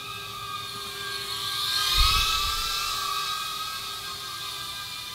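A King Kong Tiny Whoop FPV racer drone flies nearby with a steady high-pitched whirring whine that swells briefly around the middle and then holds level.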